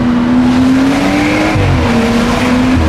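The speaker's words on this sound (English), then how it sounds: "there's like a whistling sound I'm hearing up there" A BMW 540i B58 engine with a catless downpipe roars loudly and steadily while a thin, high whistle runs over it, rising slightly as the car accelerates.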